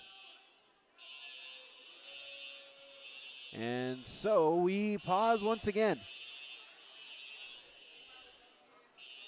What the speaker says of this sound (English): we have the fire alarms going off again